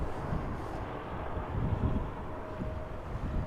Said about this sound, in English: The wind is slowing down